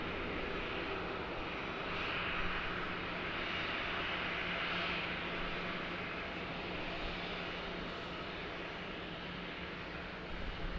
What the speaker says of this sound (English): Here landing into Melbourne after the 6 hour and 42-minute flight from Singapore.